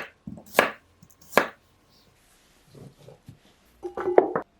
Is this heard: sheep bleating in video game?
no